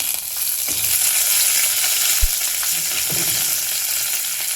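Asafoetida and curry leaves hit hot oil in a pan at home, giving a steady, close hiss of frying with a few soft knocks from stirring and no talking.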